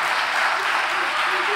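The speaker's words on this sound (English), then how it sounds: "So, quick round of applause." A Hall of Fame induction crowd bursts into a brief, dense round of clapping, loud and steady, with voices mixed into the noise.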